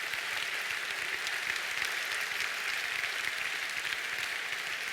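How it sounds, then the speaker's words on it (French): Steady audience applause in a hall after a political speech in French, dense uninterrupted clapping across the whole stretch at even loudness, with no voices over it. "J'adore les applaudissements."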